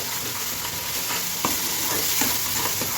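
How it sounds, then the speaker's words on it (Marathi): Masala sizzles in hot oil on a low flame while a spoon stirs it, with a steady close frying hiss and a few soft scraping strokes. No one speaks. "आता एक पाच मिनटं बारीक गॅसवर मसाला चांगला भाजून घेऊया भाजून म्हणजे तळून घेऊया"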